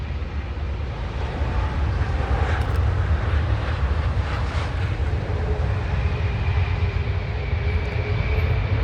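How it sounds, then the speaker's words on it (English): British Airways Boeing 787 Dreamliner airliner at London Heathrow, a loud, steady jet engine roar with deep rumble, sustained and close for the whole stretch. "And we have another BA. Another Dreamliner."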